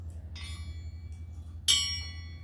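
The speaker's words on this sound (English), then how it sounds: "Hey, look what I made, David. Holy cow! Yeah, look. It's a gong" A homemade gong made from a spoon hung on string is struck twice, each strike giving a bright metallic ring with sustained harmonic tones that decay slowly, the second hit louder, over a low steady background hum.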